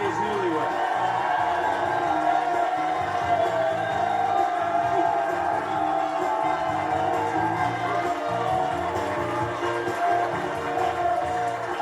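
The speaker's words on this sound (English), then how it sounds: "A round of applause for all of today's newlyweds." A television game-show studio audience applauds and cheers for newlywed couples, a steady loud wash of clapping, whoops and crowd noise lasting throughout without a break.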